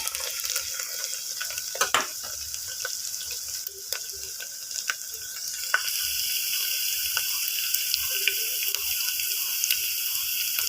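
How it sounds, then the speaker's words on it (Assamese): Chopped onions frying with cardamom pods, cinnamon sticks, a clove and bay leaves in hot oil for chicken curry, giving a steady close sizzle with occasional scrapes of stirring and a slightly louder hiss in the second half. "কাটি লোৱা পিঁয়াজখিনি মই দি ভালদৰে ৰঙচুৱাকৈ ভাজি ল'ম।"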